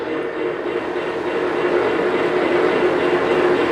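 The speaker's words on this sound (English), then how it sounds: "And the locomotive speeds up to that speed." Lionel LEGACY R-16 Sharknose model train locomotive picking up speed, a steady loud electric motor whine and rolling rumble on track, continuous and close, with no speech over it.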